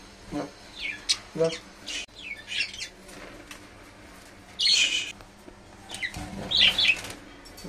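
Pet birds squawk and flap their wings in sharp, scattered bursts as they are released into a cage, close by, with quiet stretches between the calls and a person talking at times.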